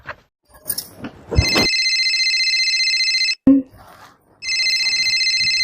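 A phone rings with an electronic tone in two long bursts separated by a pause, loud and close, with brief rustling and a voice before it.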